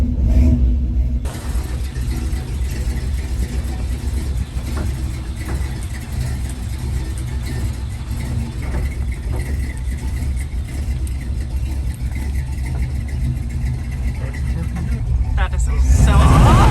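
A car engine pulls hard in a very low first gear, a loud, deep, steady rumble that swells as it revs. Excited voices talk over the drone throughout.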